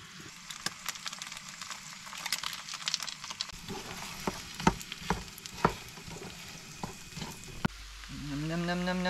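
Potatoes frying in a pan on a camper-van stove at a beach, a steady close sizzle with scattered sharp crackles and pops, a brief burst of louder noise near the end.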